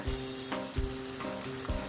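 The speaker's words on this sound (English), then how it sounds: "So I'm going to brown this up real quick." Chorizo squeezed from its casing sizzles and browns in a hot pan, a faint steady crackle with soft clinks of a utensil against the pan.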